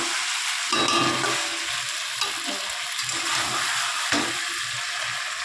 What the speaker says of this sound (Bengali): দেখো চিকেন কষানো হচ্ছে, এই যে অনেকক্ষণ থেকে কষাচ্ছে